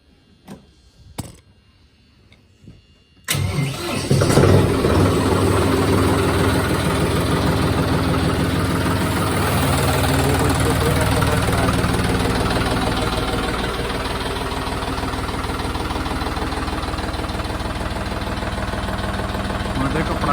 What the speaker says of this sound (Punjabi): ਹੁਣ ਕਰਦੇ ਆ ਚੋਬਾ ਨੂੰ ਸਟਾਰਟ